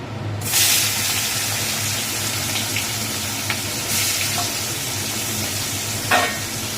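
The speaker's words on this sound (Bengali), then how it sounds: "এবার কড়াইতে চিংড়ি মাছটা দিয়ে দিচ্ছে" Prawns hit hot oil in a wok with a sudden loud sizzle that settles into a steady close crackling fry, broken by a few stirring scrapes and clinks, no voices.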